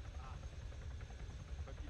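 A helicopter idles or runs steadily in a military role-play video game, a low continuous rotor and engine drone close by, faint under the game session.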